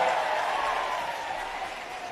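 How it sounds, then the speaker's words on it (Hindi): A rally crowd at a Bahujan Samaj Party event in the Azamgarh–Mau region applauds steadily to welcome a leader, a dense wash of clapping held at an even level throughout with no voices standing out. "हम सभी जोरदार तालियों के साथ मान्या बहन जी का स्वागत, अभिनंदन, वंदन करने का काम करें"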